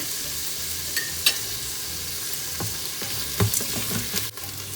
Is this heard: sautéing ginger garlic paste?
yes